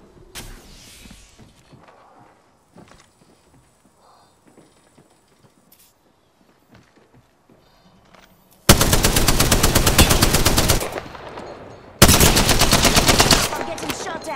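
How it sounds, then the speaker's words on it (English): Automatic gunfire in Apex Legends strikes the player in two loud, dense sustained bursts of rapid shots after a stretch of quieter game sounds, the second burst following a short pause. "I'm getting shot at."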